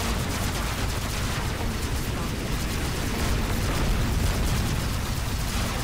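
Sustained gunfire and explosions from a Robocraft battle, with Protonium Rush robots firing, form a dense, continuous barrage throughout, close and loud with no pauses.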